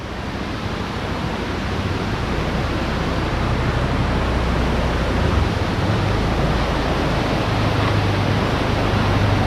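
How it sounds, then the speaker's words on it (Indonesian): A clear river flowing beside a village on the forest edge near rice fields, a loud, steady rushing wash of water heard close by and unbroken throughout, with no voices. "dengarkan suara air ya. Di sebelah kiri kita sungai yang mempunyai air yang sangat bening"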